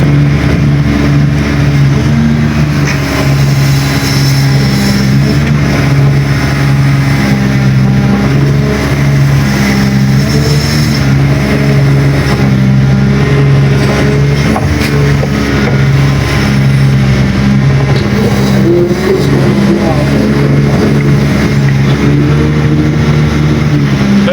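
A tracked vehicle pushes forward fast through a muddy river, its loud engine droning steadily and continuously close by with a heavy low rumble and no talk over it.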